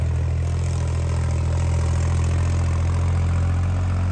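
A heavy tractor engine idles steadily and loudly throughout at a trolley-pulling contest, a constant low rumble with a faint rhythmic knock and no voices.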